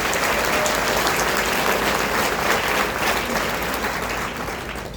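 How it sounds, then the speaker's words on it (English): A banquet audience claps in a dense, sustained round of applause, loud and steady before tapering slightly at the end. "You just let everybody know by a big round of applause"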